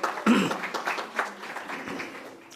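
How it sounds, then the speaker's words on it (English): Scattered applause from a press conference audience for the Magic City Classic, brief moderate clapping with a speaker's voice mixed in. "yeah, you can clap for that."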